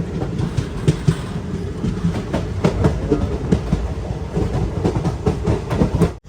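Ernad Express train running toward Valapattanam station, loud steady rumble with rhythmic clickety-clack of wheels over rail joints heard from inside the coach.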